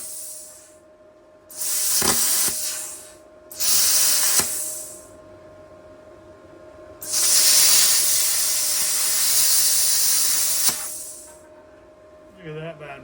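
VEVOR 50-amp plasma cutter slicing metal at 20 amps, heard as loud bursts of harsh hiss, several cuts of a second or two followed by a longer steady stretch, with a constant electrical hum between them.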